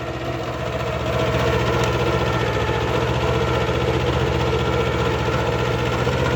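A Kubota B5001 compact tractor, rated at 9.5 horsepower, runs steadily while rotary tilling a garden plot, making a loud, close, continuous engine drone with a rhythmic low throb and no talk.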